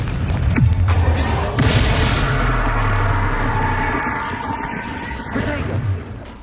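A Confringo spell blast in a Hogwarts video game: a heavy booming explosion with a crashing impact near the start, followed by a sustained rumbling roar that slowly fades, with faint voice sounds mixed in.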